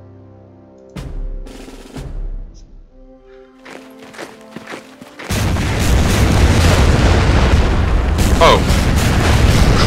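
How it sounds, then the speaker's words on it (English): Japanese battleships Kongo and Haruna shelling a position with heavy fragmentation rounds in Order of Battle Pacific, scattered booms early on, then a loud continuous roar of bombardment that persists to the end, with a brief voice exclamation. "Japanese battleships, Kongo and Haruna, are bombarding our position with heavy fragmentation shells."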